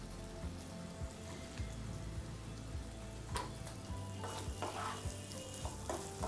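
Potato pieces fry with chilli powder and salt in a pan, giving a steady, fairly quiet sizzle broken by sharp scraping taps from stirring.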